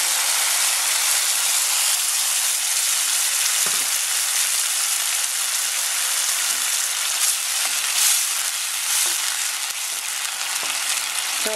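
Steady broadband sizzling fills a pan as water goes in over the sautéed base for clam soup, a loud continuous hiss with faint scattered clinks and no talking.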